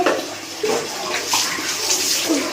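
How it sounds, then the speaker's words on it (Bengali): Water splashes and pours over a body during a bath, a steady broadband wash with a few louder surges, close and continuous with no talking. "গায়ে একটু জল তুলে নিলাম।"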